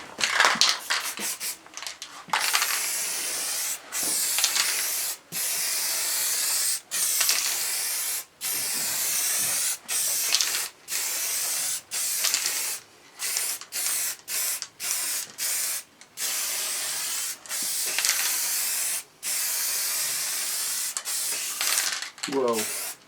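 An aerosol spray can applies a final coat of paint to a Triumph bash plate, the low can giving repeated close, hissing bursts, each a few seconds long and separated by short pauses.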